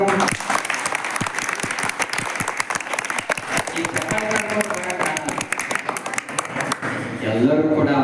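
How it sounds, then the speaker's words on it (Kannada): Loud audience applause from a large crowd at a gathering, dense steady clapping that carries through most of the stretch before thinning out near the end, with a voice faintly underneath. "ನಿಮ್ ಜೊತೆ ನಾವು ಬರ್ತೇವಂತ ಜೋರ್ ಚಪ್ಪಾಳೆ ತಟ್ಟರು."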